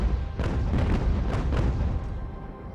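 Rapid volley of ship cannons firing in a naval battle in the video game UGAR, a dense run of booming blasts over a rumbling low end, loud and close, no talk.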